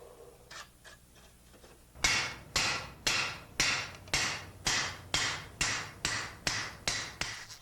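Cooled saw-blade steel struck by a hammer, about a dozen sharp metallic blows at an even pace following a few faint taps, each ringing briefly before the next, close and clear with no talking.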